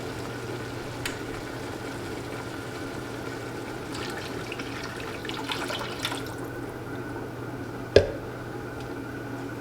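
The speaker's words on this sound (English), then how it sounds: "I just popped in the veggie broth." Vegetable broth pours into a fufu mixture in a pot, a soft, steady watery trickle that is fairly quiet and continuous, with a slightly busier splash midway and one sharp clink near the end.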